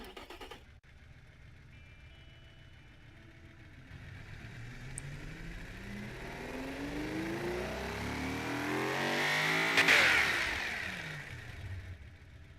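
A car with a high-flow freeway catalytic converter and straight-through mufflers revs up, its engine note climbing steadily to a loud peak, then dropping away as the revs fall.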